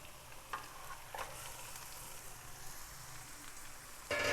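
Chicken and softened onions fry in a pan for a spicy desi chicken masala, giving a steady close sizzle with occasional louder crackles and a brief stir near the end, no voices.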